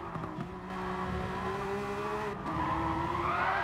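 A street race car in a racing game skids and spins out, tires squealing over a strained, rising engine note that holds steadily close and loud.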